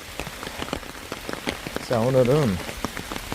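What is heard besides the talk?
rain falling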